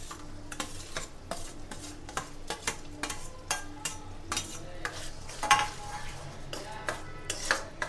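Tomato gravy cooks with fried, lightly browned onions in a pan for paneer tikka masala, with an even sizzle under repeated close spoon scrapes and clinks against the pan as it is stirred.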